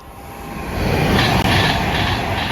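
A train passing through Tamworth station, a loud rumbling roar that swells within the first second and holds steady with rail clatter, close by and with no talk.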